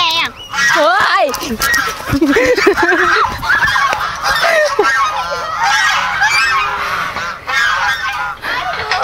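Geese honk loudly and repeatedly at close range, a noisy overlapping chorus of calls that continues throughout, with voices mixed in.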